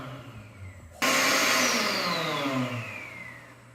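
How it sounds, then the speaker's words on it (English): A Slim Dry hand dryer in a family restroom starts abruptly after a second of quiet, then roars with a loud, steady high-pitched whine that dips slightly in pitch before fading back near the end. "The family restroom Slim Dry was a tiny bit higher pitch than the main ones."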